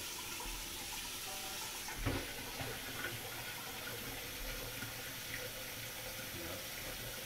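Cold water runs steadily from a kitchen tap into a pitcher for mixing Kool-Aid, a continuous close hiss with a brief splash-like bump about two seconds in.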